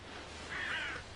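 Crows in a Russian forest give a single short, harsh caw at moderate distance, standing out briefly against quiet background hiss.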